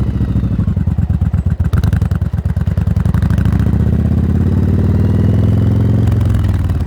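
A motorcycle engine idles close up with a steady, loud, lumpy beat that briefly clatters before settling into an even rumble.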